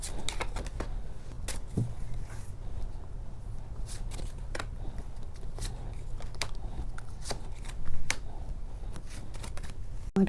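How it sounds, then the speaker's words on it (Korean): Tarot cards shuffled and drawn close up, a soft steady riffling rustle punctuated by frequent crisp snaps and flicks of the cards, without any speech. "이렇게 카드 뽑아봤는데요"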